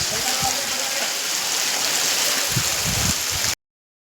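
Steady heavy rain pours down close by, a dense, even hiss that runs without a break, with a few faint low thumps and some indistinct talk underneath near the end.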